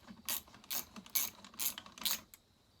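A ratcheting wrench works a tight, cross-threaded bolt on the intake of a McCulloch 7-10 chainsaw, giving five or six short, close ratchet bursts of rapid clicking in an even rhythm, with no talk.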